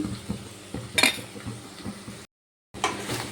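A spoon mixes a fairly dry pointed gourd curry, with green chilies and mustard oil, in a pan. Close clinks and scrapes come with a soft sizzle, then a brief silent gap before the stirring resumes.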